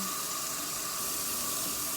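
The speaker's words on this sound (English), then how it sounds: "So you want to turn the faucet on to warm water." Water pours steadily from a faucet into a sink, a constant close splashing rush with no voices.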